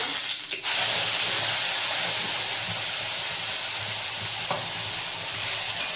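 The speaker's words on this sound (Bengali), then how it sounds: "এই পেস্টটা এবার আমি ঢেলে দেব" Spice paste hits hot oil with whole garam masala and cumin for mutton-fat chickpea ghugni, bursting into a loud, steady close-up sizzle after a brief clatter, with faint stirring scrapes and no talking.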